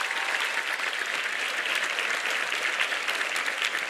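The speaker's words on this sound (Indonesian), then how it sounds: "Tepuk tangan dulu buat semuanya." Audience applause at an Indonesian religious youth event with students from an Islamic boarding school, a loud dense continuous wash of many hands clapping, steady throughout with no talk over it.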